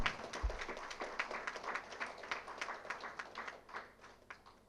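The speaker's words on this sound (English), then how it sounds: "please join me in giving very, very big clap to Acharya Sahab for a good thought" An audience at a corporate social responsibility congress gives a faint, scattered round of clapping that swells briefly and then thins out, heard from a distance.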